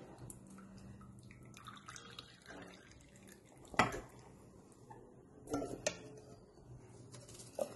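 Water dripping and trickling off freshly washed ingredients left to drain in a kitchen, with soft irregular drips and a few louder splashy bursts, close and fairly quiet.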